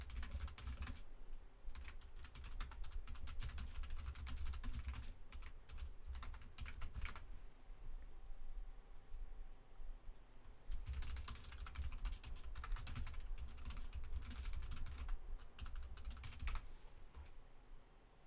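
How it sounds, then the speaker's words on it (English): Someone types on a computer keyboard, with rapid clattering bursts of keystrokes separated by a quiet pause, close and fairly soft, with no talk. "Just typing to someone"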